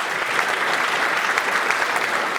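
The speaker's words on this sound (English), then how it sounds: "La liste, oui, on peut les applaudir." Dense, steady applause from an awards-ceremony audience honouring the judges at the National Newspaper Awards, filling the room evenly and continuously with no pauses.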